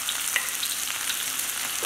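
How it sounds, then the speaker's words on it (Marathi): Finely chopped onion fries in hot oil in a pan, a steady bright hissing sizzle with a soft stirring tap, close and alone. "आणि मस्तपैकी हा तळसून घेऊया।"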